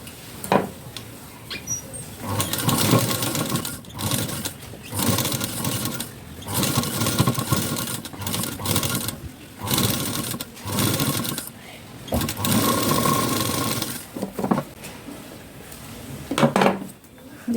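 A sewing machine stitches the front part of a blouse in repeated bursts of rapid, close mechanical whirring, separated by short pauses and light handling clicks of fabric and parts.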